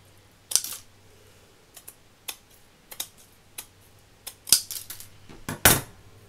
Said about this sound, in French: on va couper les longueurs comme ceci